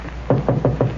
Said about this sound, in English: There's somebody at the door.